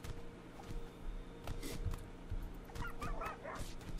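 A dog is punched in a RimWorld battle, giving several short yelps and whimpers amid thuds and game combat noise, fairly faint and spread across the few seconds.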